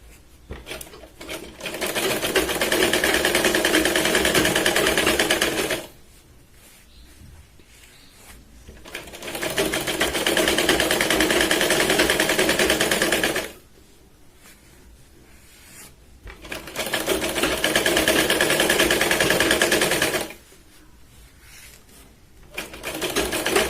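A sewing machine runs in three long bursts of steady stitching, sewing a double seam and waistband strip on a katori blouse, with short quiet pauses between runs.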